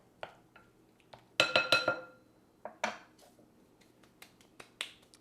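Utensil stirring bruschetta ingredients in a pan, heard as a quick run of bright metallic clinks and scrapes in close, uneven bursts, loudest in a cluster near the middle, with no talking.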